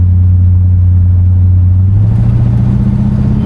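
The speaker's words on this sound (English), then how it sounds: "give it a little bit of gas." Engine of a 1968 Buick Electra 225 idling with a steady low rumble, then rising slightly as the gas is blipped; close and continuous, no talking.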